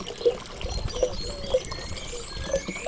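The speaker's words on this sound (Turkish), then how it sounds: "Bu esnada suyumu da dolduruyorum." Water trickles and pours into a container outdoors while tea brews over embers nearby, a steady soft dribble with a few small clinks, fairly close and moderately quiet, with no talking.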